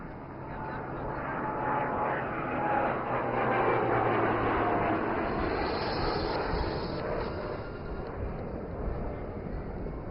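Maritime patrol aircraft fitted with a long-range maritime patrol radar, flying at the Aero India 2025 air show: a broad, steady engine roar that holds loud throughout, with a faint voice underneath.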